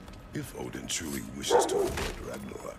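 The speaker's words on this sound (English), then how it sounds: "I don't know if you can hear that, but that's my dog." A pet dog barks and yips in the room, a few short sharp barks close by, over game dialogue from God of War Ragnarok.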